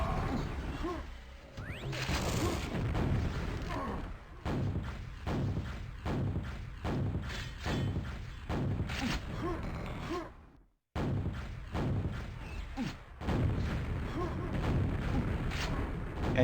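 Rocket launcher fire and explosions in a QuakeWorld duel, a rapid run of heavy thumps and booms repeating roughly every half second, loud and close, with a brief silent gap midway.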